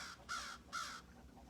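Two loud, harsh crow caws, about half a second apart, ring out close by against a quiet outdoor background.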